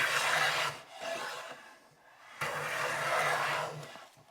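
Wood being worked in a vise to level the end of a brace for an acoustic guitar top: two long, close strokes of rasping abrasion, each swelling and fading, with a brief gap between.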